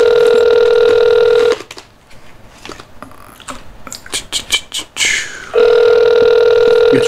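A telephone line rings while a call goes out to a podcast guest: two long, steady, bright tones, near and loud, separated by a few seconds of clicks and handling noise.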